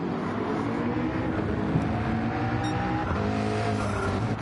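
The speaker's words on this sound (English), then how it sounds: "I could barely hear myself think now because the car noise is so loud in my ears" Race car engine roar from a racing video game at Brands Hatch, a loud continuous drone with shifting pitch as the engine revs, steady and close with no talk over it.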